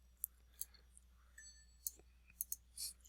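Computer mouse clicking while dragging an image in an editing program, a handful of sharp, quiet, irregularly spaced clicks close by over a faint low hum, with no talk.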